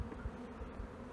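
Honey bees bunched up in an opened hive on a cool day, a soft low buzzing hum, faint and close, with no voices over it.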